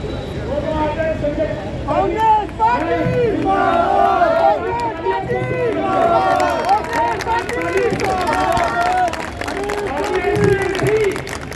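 At an Indian Congress party political rally, a large crowd cheers and shouts with bursts of clapping, a dense, loud roar of many voices sustained throughout.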